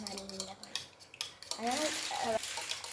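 Beaten eggs being mixed for an omelet, with a utensil clinking and scraping against a bowl in short bursts, close and fairly quiet, with a brief voice and some tonal sounds in the background.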